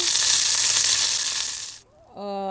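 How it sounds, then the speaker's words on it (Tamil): Onions sautéing in hot oil for a Jaffna-style pumpkin and cassava milk curry: a loud, dense sizzle that cuts off abruptly, followed by a short ringing metallic tone. "வெங்காயத்தையும் போடணும் வெங்காயத்தையும் போட்டு வதக்கணும்"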